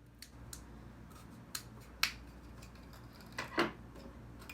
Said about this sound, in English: That's the first thing to do, is cut the straw in 3 parts.